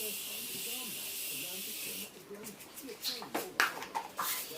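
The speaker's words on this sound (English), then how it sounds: "So I'm going to put a setting spray." A steady, airy hiss of Morphe continuous setting mist spraying for about two seconds, followed by quieter shuffling and soft taps; no talking.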